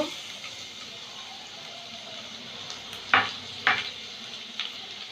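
Chopped garlic goes into hot oil and is stirred while making chilli egg: a faint, steady sizzle runs throughout, broken by a few sharp clinks and scrapes of the spoon near the end.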